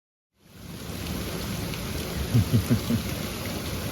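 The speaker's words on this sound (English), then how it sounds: "Just beautiful, perfect rain." Heavy, steady downpour in Leakey, Texas, soaking the ground as a dense continuous hiss, with a few low rumbles of thunder rolling in near the end, no voices.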